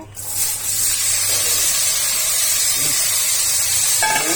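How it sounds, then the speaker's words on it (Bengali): Finely chopped bottle gourd tipped into a hot pan to fry: a loud, dense hiss of sizzling fills the whole stretch, steady and close, with faint clatter near the start and end. "যে লাউটা আমি এরকম ছোট ছোট করে কুচি করে রেখেছিলাম, ওই লাউটা এখন এর মধ্যে ঢেলে দিব।"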